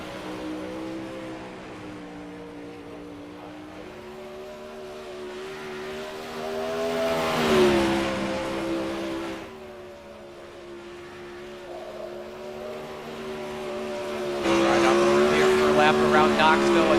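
360 sprint cars roar around Knoxville during qualifying, a continuous harmonic engine drone that swells and fades as cars pass, with a louder rising pass at the end and a commentator talking over it.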